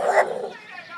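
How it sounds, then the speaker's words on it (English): A dog gives a short bark close by, mixed in with a person's voice over about a second of sound. "Stop barking at me."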